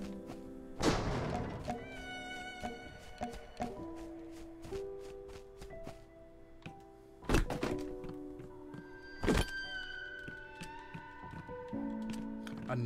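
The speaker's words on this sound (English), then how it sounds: "A nail gun." Nail gun fire in the survival game Drake Hollow, a few sharp, punchy thunks spaced seconds apart amid softer tapping and thudding sounds of play.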